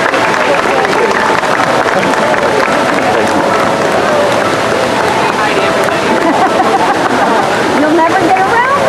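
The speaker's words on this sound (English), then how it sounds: "how about a round of applause for the sporting group tonight?" Crowd applause at an evening dog show, following the sporting group, loud and continuous throughout with voices and crowd noise mixed in.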